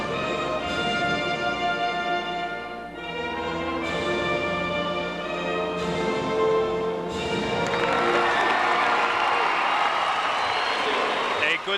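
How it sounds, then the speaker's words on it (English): Crowd filling an arena's lower bowl before a 1998 Class C state semifinal between Mason County Central and Ishpeming murmurs and applauds under loud, steady band music, the clapping swelling toward the end. "Good-sized crowd that have begun to fill the lower bowl for game 1 of this Class C state semifinal doubleheader"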